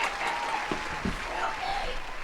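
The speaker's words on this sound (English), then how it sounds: "everybody give him a round of applause" Applause and scattered clapping from a crowd fill the short clip, steady and moderately loud, with voices mixed in.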